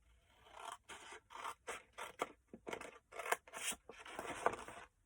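Scissors cutting through card for a Mother's Day hamper, a run of about ten short close snips and scrapes in an uneven rhythm, quiet and with no talk.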